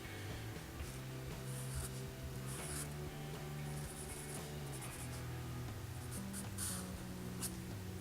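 A pencil scratches across paper as a basic cartoon face is drawn, giving a faint, steady scratch with short strokes and brief pauses and no one talking.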